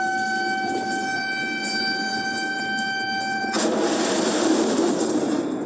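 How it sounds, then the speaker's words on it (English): A US Navy guided-missile destroyer fires a guided missile: a steady tonal hum gives way to a sudden loud, broad roaring rush that holds to the end, with no voices. "That's the sound of the U.S. Navy firing off a guided missile"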